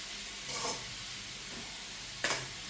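Bread and egg mixture sautéing in a pan, a low continuous sizzle with a couple of short scraping stirs, close and moderately quiet, no talking.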